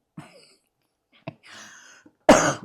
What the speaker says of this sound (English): The cough is the worst.